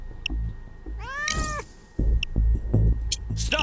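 Cats meow loudly in Goat Simulator PAYDAY, with one clear rising and falling meow up close, surrounded by clicks and thumps from the game and no talking.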